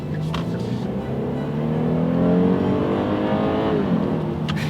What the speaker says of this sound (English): let's do a quick little acceleration here. We'll see how quickly we can get this G80 up to speed.